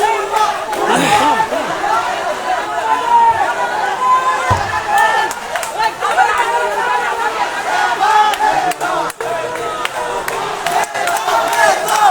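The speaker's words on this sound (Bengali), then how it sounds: "এইখানেও কিন্তু বেশ কিছু সাধারণ শিক্ষার্থীরা তাদেরকে স্বাগতম জানাচ্ছেন এবং বিভিন্ন ধরনের স্লোগান দিচ্ছেন" Crowd of students chanting slogans and shouting at a quota reform protest on a Sylhet university campus, a dense continuous roar of voices with rhythmic calls rising throughout.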